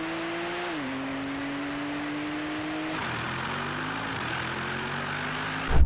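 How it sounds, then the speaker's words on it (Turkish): A Porsche 911 Turbo launching in a drag race against an AMG GT 63 and an R8 GT, its engine revving hard through rising pitch sweeps with a gear change midway, heard from a distance. "I think the Porsche got its proper launch"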